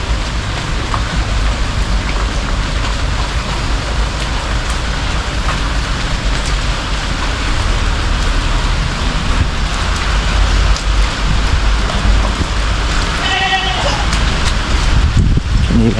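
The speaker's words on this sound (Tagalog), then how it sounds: "Buti na huminahina ng konti ngayon ng ulan." Heavy rain pours down constantly in a dense, loud hiss, with a voice speaking briefly near the end.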